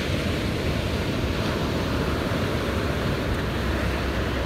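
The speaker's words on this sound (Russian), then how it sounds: "а сейчас волны передают вам привет." Ocean surf breaks on a California shore in a steady, loud roar of water with wind buffeting the microphone, and no voices.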